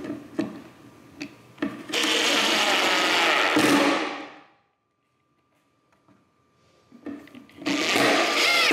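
A power drill drives screws into the bottom of a wooden rotating bookshelf on lazy Susan hardware, with loud sustained whirring runs broken by short clicks and taps, a silent gap, then another drilling burst.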